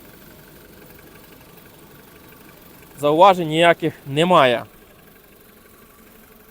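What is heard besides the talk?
Skoda Roomster 1.6 MPI engine idling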